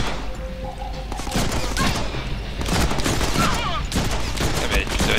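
Rapid gunfire in the Deadpool video game, dense bursts of shots crackling one after another over a steady game soundscape for several seconds.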